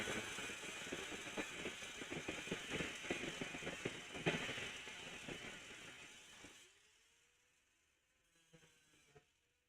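A mechanical grinding noise, rapid and rattling like a ratchet or gears, runs loud and continuous for several seconds, then cuts off, leaving a few faint clicks and a low hum.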